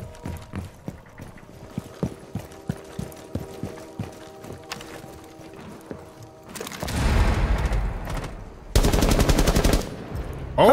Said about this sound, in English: I just shot somebody through a fucking window and killed them